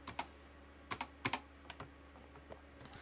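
Keys are pressed one at a time on a computer keyboard while setting up a Jingsha B85M-I motherboard, giving soft close clicks in small clusters with pauses between them over a faint steady hum.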